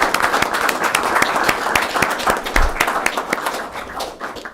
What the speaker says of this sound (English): join me in a round of applause for our LFR team medical care community